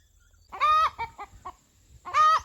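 A broody hen, just off her nest after sitting for 24 hours, gives two loud, drawn-out squawking calls with a few short clucks between them, close by and with no talking.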